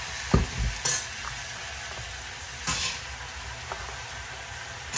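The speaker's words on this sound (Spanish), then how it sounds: "Ya sofrió el aceite, ya sofrió el jitomate y la cebolla, y luego le voy a poner las calabacitas." Zucchini frying in hot oil with tomato and onion, a steady close sizzle broken by a few louder bursts and stirring clatters in a pan.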